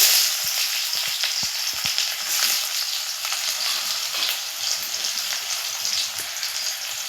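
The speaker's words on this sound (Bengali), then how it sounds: "তেলটা গরম হয়ে গেছে, তেলে দিয়ে দেব পেঁয়াজ কুচি।" Chopped onion hits hot oil in a kadai and sizzles loudly and steadily throughout, close up, with a few soft knocks early on.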